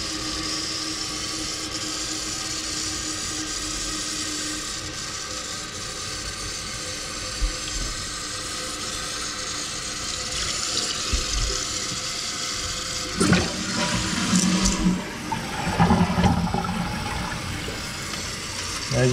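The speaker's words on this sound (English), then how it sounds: "As you can see, I'm adjusting this down because our flow without stopping" A household toilet tank refilling after a flush with slow fill, a steady rushing hiss of water that swells louder with gurgling splashes toward the end, with a voice talking briefly.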